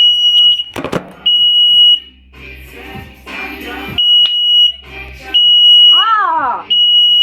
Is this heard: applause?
no